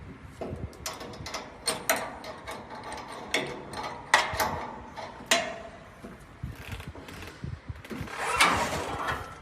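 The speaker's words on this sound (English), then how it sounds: "we must use the spanner to unscrew the screw" A spanner works loose a screw on a YWK series griddle, giving a run of faint metallic clicks, ratcheting scrapes and small knocks at an uneven pace, close and quiet.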